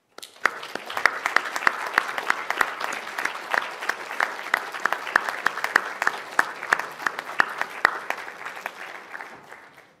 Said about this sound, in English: So let's thank them with our applause.